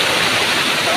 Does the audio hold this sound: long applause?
no